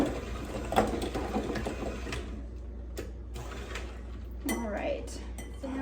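An electric mixer creams butter and sugar for fall bread in a home kitchen, with a steady mechanical whir and faint clinks from the bowl while a person talks.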